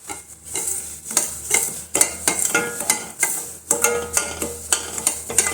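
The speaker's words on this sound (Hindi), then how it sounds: "तो यहाँ पे गाय का घी डाल लिया है और इसमें डाल लेती हूँ सूजी" Semolina roasting in cow ghee sizzles softly while a spoon stirs it in repeated scraping strokes against the pan, a rhythmic series of close, distinct scrapes and clinks with no talking.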